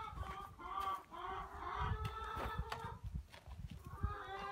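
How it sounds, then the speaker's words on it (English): Farm chickens cluck at evening chore time, a close, faint flock of hens with repeated short clucks and calls overlapping throughout, under low background noise. "let's go get the chickens"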